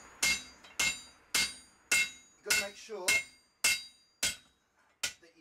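A hammer striking a hot cut during blacksmith forging of a knife, about nine sharp metallic blows at a steady pace with a ringing tail after each, close and clear, with someone speaking briefly over them.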